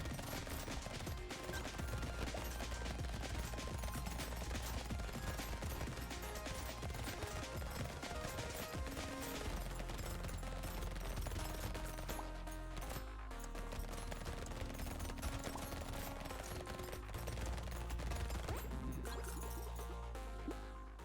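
Many SMGs fire at once in the game Brotato, making a dense, nonstop rattle of rapid clicky shots mixed with clinks, small smashes and game music. It stays steady and busy throughout at a low overall level.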